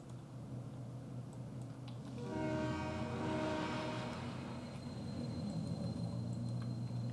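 A train rumbles past close by, its loud, steady roar swelling after a couple of seconds, with a sustained horn-like tone ringing over the noise.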